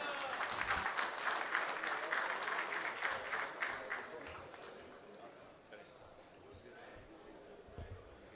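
Audience applause for the nominated candidate for finance secretary at an election get-together, a dense wash of clapping that is strong for about five seconds and then thins to a scattered, fading patter.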